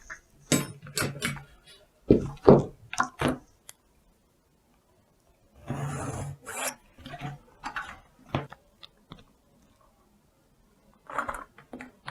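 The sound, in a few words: drawing dress pattern lines on paper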